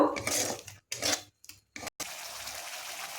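Spice paste for kadai paneer, sweetened with sugar, being stirred and fried in a pan: a close, hissing sizzle with scraping strokes, broken by short pauses, then a steady sizzle.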